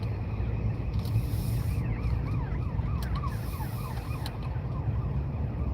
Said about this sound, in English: That's the slowest moving ambulance I've ever seen.